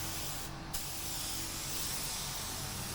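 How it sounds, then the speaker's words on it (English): Compressed air hisses steadily from a spray gun, drying a pearl-coat white base coat on an accident-repaired Audi A1 in a body shop, loud and continuous with a brief dip partway through. "I'm just drying the paint a little bit with the air out the gun"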